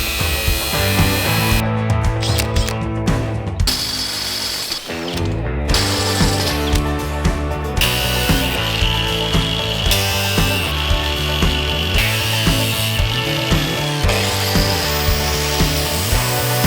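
A zip disc cutting out brackets from 1/8 inch steel plate for a custom shifter mount, a loud, steady metallic whine with harsh grinding texture that stays continuous, with brief dips in between passes.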